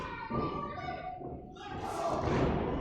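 A wrestling match clothesline lands with a dull body thud over constant arena crowd noise, followed by continued rumbling crowd reaction.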